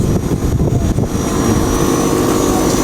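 A Daikin air conditioner unit with a shorted IGBT runs continuously without load, giving a loud, steady mechanical hum and airy whoosh that stays constant throughout, with no speech.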